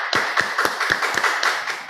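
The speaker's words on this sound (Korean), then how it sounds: "우리 박수로 맞이하겠습니다." Audience at a missionary forum claps in a slightly uneven rhythm, about eight distinct claps spread over two seconds, close and clear over a faint room hum.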